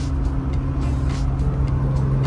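A VR6-swapped Mk1 car cruising city streets: a steady, low, humming engine drone with a constant tonal rumble, heard from inside at moderate level with no talk.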